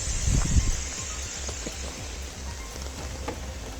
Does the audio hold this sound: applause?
no